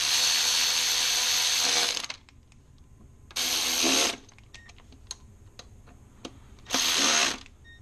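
Ratchet driving 8mm bolts back in on a 2002-2006 MINI Cooper R50-R53 after a valve cover gasket job, heard as three close, loud bursts of fast ratcheting separated by pauses with faint clicks between them.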